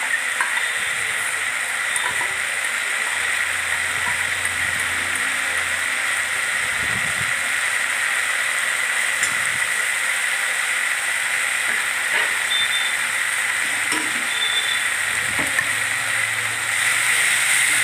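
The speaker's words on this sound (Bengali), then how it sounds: "ভালো করে খুন্তি দিয়ে নাড়তে থাকলাম" Spice paste sizzling in a pan while being stirred with a spatula, prepared for morich katla, a Bengali chili fish dish: a constant loud hiss of frying, with faint scraping knocks now and then.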